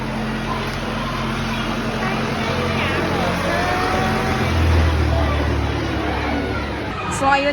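A shuttle bus climbs a mountain road at Taipei Zoo, its engine rumbling steadily and close with road noise, the low drone deepening as it works harder midway, while passengers talk over it.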